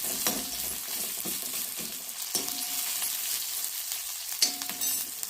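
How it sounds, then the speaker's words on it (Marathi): Ginger, garlic, green chillies and curry leaves sautéed in hot oil, a continuous close sizzle with occasional light spatula clinks against the pan. "दोन बारीक चिरलेल्या हिरव्या मिरच्या चार पाच कढीपत्त्याची पाने बारीक चिरून हे सर्व तेलामध्ये परतून घेऊयात"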